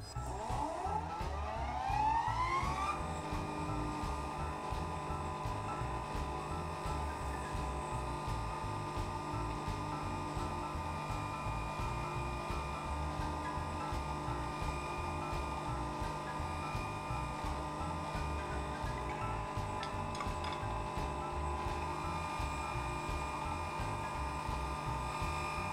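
Wood lathe spinning a turned cedar vase at 3000 RPM during friction polishing, a steady loud mechanical whine with a rising pitch sweep at the start and a constant low rhythmic hum throughout, with no speech.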